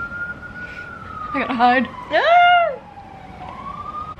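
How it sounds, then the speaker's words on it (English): An emergency vehicle siren on a New York City street wails with a rising and falling pitch, joined midway by a short spoken line over it. "The sirens."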